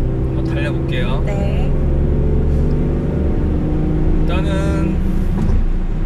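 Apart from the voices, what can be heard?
Mercedes-Benz E43 AMG accelerating on highway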